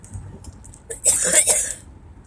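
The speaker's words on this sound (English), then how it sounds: "my allergies are bad, causing me a cough" A woman with bad allergies coughing, a short throat-clearing rasp followed by one harsh, close cough burst, alone with no talk around it.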